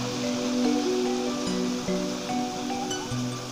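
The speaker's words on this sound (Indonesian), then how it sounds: "Sini ada kali yang airnya deras banget." A swift, rain-swollen river fed by a waterfall near Subang, West Java, rushes in a steady, loud broadband roar close by, with no voices over it.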